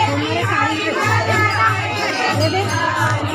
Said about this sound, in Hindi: बहुत ज़्यादा भीड़ है